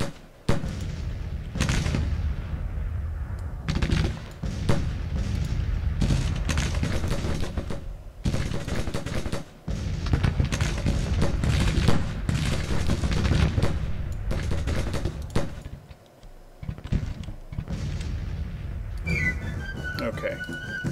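Civil War battle in the Grand Tactician strategy game, dense rolling musket volleys and booming artillery that swell and fade over a long stretch, with someone talking through much of it.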